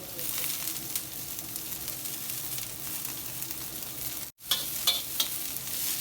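Carrots, beans and cabbage stir-fried in a pan for veg noodles, a steady close sizzle with stirring scrapes, broken by a brief silent gap before the frying resumes with a few sharper scrapes.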